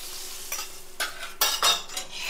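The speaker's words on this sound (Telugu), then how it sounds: "కొంచెం బటర్ వేస్తున్నాను" Butter sizzles on a hot dosa pan for rice-flour and cashew dosas, a soft hiss broken by several brief scraping bursts close by, with no talking.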